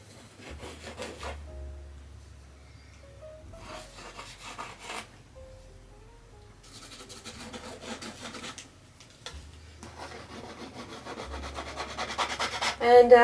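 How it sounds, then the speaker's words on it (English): A palette knife scrapes paint across paper in soft, close rasping strokes that come in bursts separated by short pauses, with faint low hum beneath. "I'm gonna go through with my little trusty palette knife that broke"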